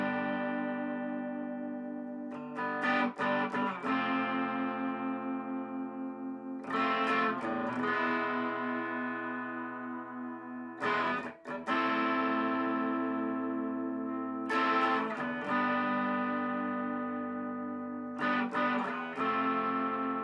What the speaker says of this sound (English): We'll play a couple of chords so you can hear what the humbucker sounds like clean.